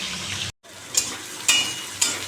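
Fish frying in a pan, a continuous sizzling hiss that cuts out briefly, then returns with several louder crackling bursts spaced about half a second apart.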